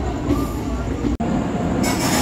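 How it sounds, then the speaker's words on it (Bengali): Kamrup Express train pulling into Azimganj Junction station platform, a steady loud rumble of rolling railcars with wheel noise and a brief break, no clear speech over it. "কামরূপ এক্সপ্রেস ঢুকছে।"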